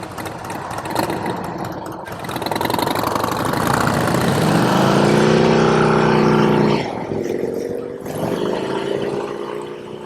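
A Harley-Davidson Road Glide motorcycle engine runs close by, a loud throbbing rumble that rises as it revs and settles back, with a deep rhythmic exhaust note throughout.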